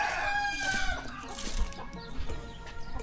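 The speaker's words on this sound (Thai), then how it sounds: "ได้ยินแต่เสียงไก่กระตากห้องกระตากบ่งบอกถึงว่าความเป็นธรรมชาติของชนบท" Chickens clucking and a rooster crowing in a rural Lao village, close and fairly loud, with busy overlapping calls and a brief flutter of wings.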